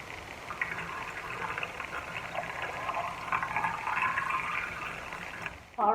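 Pickle brine is poured into jars of refrigerator pickles packed with garlic and dill, making a faint, steady gurgling trickle that swells briefly at the end.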